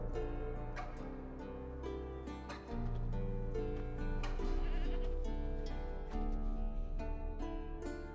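Goat tied to a stake as bait in the video game The Witcher 3, bleating repeatedly over a layered musical score, the calls moderately close and recurring throughout.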